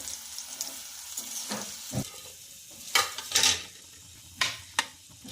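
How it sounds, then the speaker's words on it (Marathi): Peanuts and garlic fry lightly in a pan of oil for crispy poha chivda, a steady close sizzle punctuated by several loud stirring scrapes and clacks, the last two sharp and distinct, with no voices. "छानपैकी शेंगदाणे आणि लसूण आपला फ्राय झालेला आहे, हलकासाच फ्राय करून घ्यायचा आहे।"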